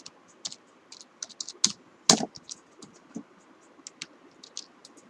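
Quiet, irregular keystrokes on a computer keyboard entering a DAX formula, with light clicks and a couple of louder taps near the middle, close by and with no voice.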